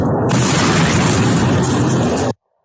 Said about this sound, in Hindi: इस तरह से मिसाइल जो है गिरता है।